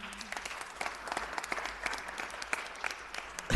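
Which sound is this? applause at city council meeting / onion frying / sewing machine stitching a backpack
applause at city council meeting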